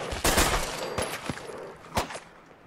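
Bursts of gunshots crack in a biker-gang shootout in a video game, a few sharp loud shots spaced irregularly across a couple of seconds with a noisy tail between them.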